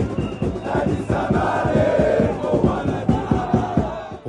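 Zamalek supporters in a football stadium chant together with a drum beating, a loud rhythmic wall of crowd voices with regular pulsing accents throughout.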